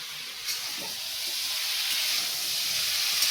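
Ridge gourd going into a pan of frying koi fish with potatoes, a steady hiss of sizzling oil and steam that swells slightly after the vegetables drop in, close and fairly soft, without any talking.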